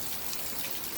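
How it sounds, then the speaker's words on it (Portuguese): Heavy rain falls on a flooded street, a dense, even hiss of drops close by, with no talking. "Muita chuva."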